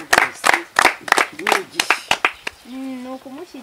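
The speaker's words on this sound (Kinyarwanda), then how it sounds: "Reka tumukomere amashyi gose." Scattered hand claps from guests at a wedding-planning meeting, a handful of sharp bursts over about two seconds before a voice takes over.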